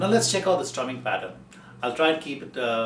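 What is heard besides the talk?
No everyday noises stand out.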